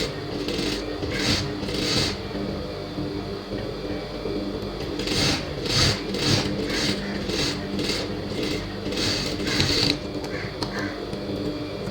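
A sewing machine stitching a blouse runs in short rhythmic bursts of rapid mechanical whirring, pausing between runs, close and moderately loud with faint background noise.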